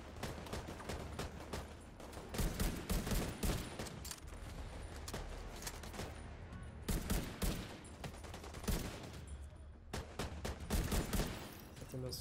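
Gatling gun fire in the shooter game The Division 2, repeated rapid bursts of automatic gunfire in loud waves with short lulls, close and dense.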